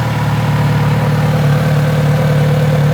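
A Kawasaki Z900 RS motorcycle engine idles steadily without revving, a constant low throbbing hum that stays loud and even throughout with no voices.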